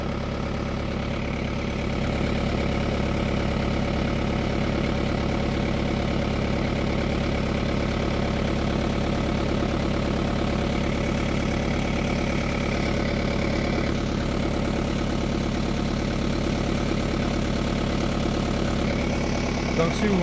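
Renault Clio 2 engine idling steadily, a continuous close mechanical hum and rumble running throughout without change.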